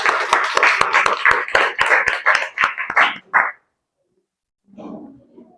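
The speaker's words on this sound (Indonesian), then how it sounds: "Ya, berikan tepuk tangan." A classroom group gives a round of applause: a burst of many rapid hand claps, close and loud, stopping abruptly, then a short pause followed by a soft voice speaking.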